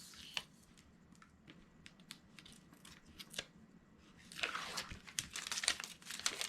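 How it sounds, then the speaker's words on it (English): Tape backers are peeled off chipboard liner and jacket pieces for an embellishment book, producing soft crinkling and papery crackles close by, growing busier and louder toward the end. "we're going to peel away our tape backers from the liner piece as well as the"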